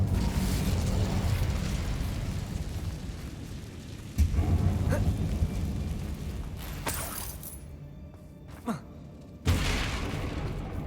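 A fire spell cast inside a dark abandoned mine in the Hogwarts Legacy video game, heard as a few booming bursts and whooshes over a steady rumbling game ambience.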